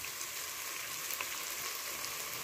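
Vegetables sizzle steadily in hot oil with masala for a veg pulao, a constant close hiss of frying with faint stirring and no voices.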